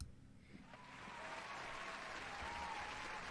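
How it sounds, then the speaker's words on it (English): Applause from a crowd, a steady wash of clapping that grows fuller after the first second and holds at a loud, even level. "Always with the applause."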